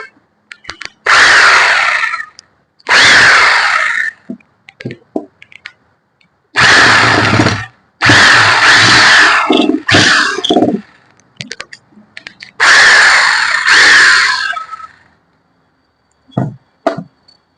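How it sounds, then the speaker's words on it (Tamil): A Powerbilt 7kg 1800W demolition hammer runs in loud, harsh bursts of a few seconds each, stopping and restarting several times with short silent gaps between. "இப்போ நம்ம மிஷின் ஆன் பண்ணிட்டோம் பிட்டை வந்து இன்சர்ட் பண்ணிடுவோம் விட்டு போட்டாச்சு வந்து ரன்னிங் பாருங்க"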